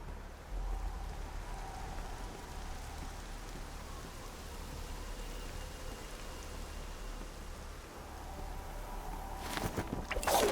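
Steady rain falls in the game Horizon Zero Dawn, a continuous hissing wash of drops with a low rumble beneath, swelling into a louder burst near the end, with no voices.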